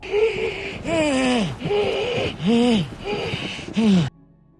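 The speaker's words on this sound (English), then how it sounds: "We always hear the strain in each breath as the agony rattles around inside of him." Heavy, strained breaths with groaning, wheezy tones come in a rough rhythm of about five labored gasps, close and loud, then fall silent.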